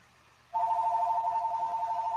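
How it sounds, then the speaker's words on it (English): A telephone starts ringing abruptly with a steady warbling electronic tone that continues without break, fairly loud against a quiet room with no talking. "Hey, the phone's ringing."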